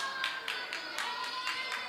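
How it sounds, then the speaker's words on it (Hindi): Faint, sparse clapping from a small audience at a Jain cultural programme quiz game, a few bursts of claps roughly every quarter second over a quiet room. "आंटी के लिए जोरदार तालियां।"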